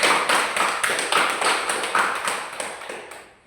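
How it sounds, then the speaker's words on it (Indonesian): Children in a classroom clap together in quick, fairly loud rhythmic bursts that taper off toward the end. "Tepuk tangan untuk Andika."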